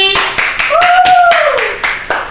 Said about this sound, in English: let us welcome and give a warm of applause to Zyanna Deguito, please!